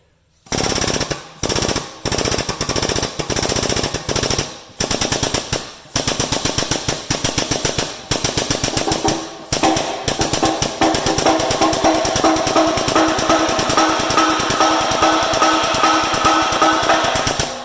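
A shop press drives a bearing off the pulley of a Massey Ferguson combine under restoration, giving loud, rapid mechanical hammering in bursts that build into a steady, sustained rattling pound close to the listener.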